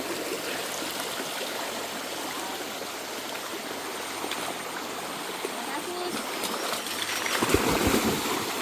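Strong floodwater rushing during typhoon Carina in Gabaldon, a dense, constant roar of churning water that fills the scene from start to finish, with a few louder splashes near the end.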